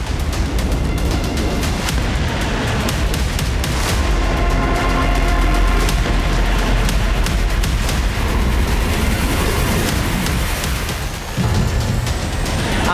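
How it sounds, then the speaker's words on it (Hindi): Heavy bombardment of terror bases, with continuous loud booms and blasts layered into a dense, rumbling barrage that stays intense for the whole stretch. "आतंक के अड्डों पर बम बरसे"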